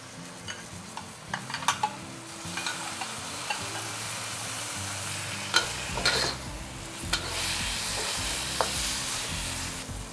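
Beef and tomatoes stir-fry in a hot pan, a steady close sizzle with scraping and stirring clinks from a utensil throughout, alone without talk.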